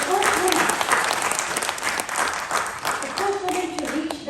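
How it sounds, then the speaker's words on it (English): An audience at a formal program applauds warmly, a dense patter of many hands clapping steadily for several seconds, with a voice speaking over the clapping. "Please, another round of applause for both of them and their extraordinary accomplishments."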